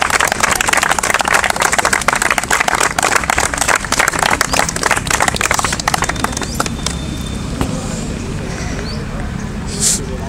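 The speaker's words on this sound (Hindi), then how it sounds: "आप फूल मालाओं के साथ और जोरदार तालियों के साथ इनका उत्साहवर्धन" Loud, sustained clapping from a crowd welcoming newly selected Delhi Police candidates at an indoor gathering, dense and steady for several seconds before thinning out toward the end.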